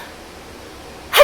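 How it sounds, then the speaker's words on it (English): A single short, sharp sneeze bursts out at the very end after near silence. "What do you think is going to happen when I sneeze?"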